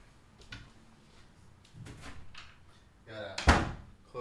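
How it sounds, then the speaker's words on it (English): A door swinging shut in a small room, a sharp close thud near the end after softer shuffling and bumps, with a voice talking around it. "Gotta close the door."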